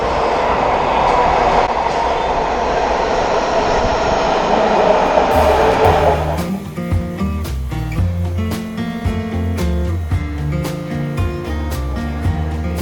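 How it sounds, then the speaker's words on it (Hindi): A metro train in Atlanta pulls into the station fast, a loud rushing roar that shifts into a steady rumbling hum with tonal motor whine as the cars pass close by. "और ये आ गई है ट्रेन, सामने बड़ी तेज़ी से आ रही है"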